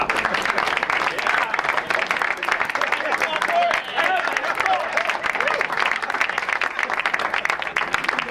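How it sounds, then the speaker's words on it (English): Applause for cross-country runners' parents at a school board meeting, sustained clapping from a room of people with voices talking over it. "let's give your parents a round of applause"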